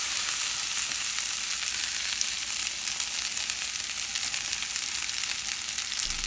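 Red chilies cut in half and lady's finger fry in hot oil with hing, making a loud, steady, close sizzle that runs continuously without a break.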